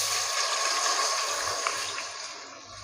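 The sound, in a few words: water poured into heated cooking oil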